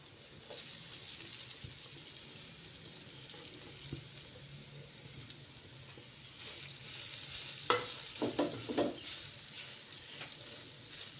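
Potatoes frying in a pan with golden-brown softened onions and a teaspoon of turmeric for an aloo cheese pocket filling, a low steady sizzle with a cluster of stirring scrapes and knocks toward the end.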